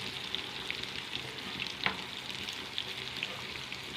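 Fish fries in a pan over low heat, a soft, steady sizzle with faint crackles and one brief louder pop partway through, without speech.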